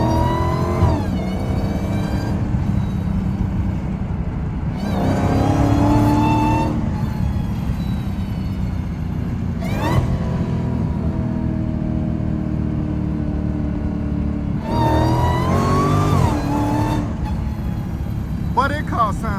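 Dodge Hellcat engine revving hard while driving, a loud continuous roar with repeated rising rev sweeps and gear changes, heard from inside the car.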